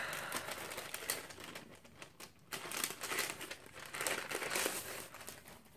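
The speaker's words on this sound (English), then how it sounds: "right on top we have a little paper bag" A small paper bag is opened during an unboxing, with quiet crisp crinkling and rustling in uneven bursts, close up and alone with no talking.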